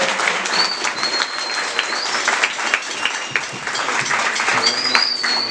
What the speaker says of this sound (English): So, a big round of applause to her